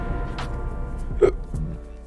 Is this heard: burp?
yes